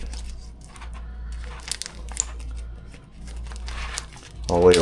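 Close crinkling and tearing of plastic wrap off a pack of baby back ribs in uneven bursts over a steady low hum, with a louder rustle at the end.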